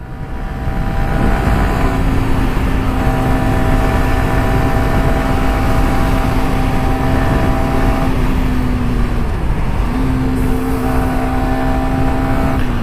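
A Yamaha R15 V3 BS6 supersport motorcycle accelerating hard on a highway, its engine note climbing steadily through the revs, with a brief dip around a gear change before it rises again, loud and close over steady wind and road noise.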